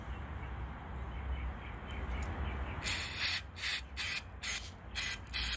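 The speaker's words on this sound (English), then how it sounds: "So I'm just gonna spray it." Short repeated hisses of brake fluid sprayed from an aerosol can onto a tool coated with roofing wet-patch sealant, about six close bursts in quick succession after a quiet stretch of low background noise.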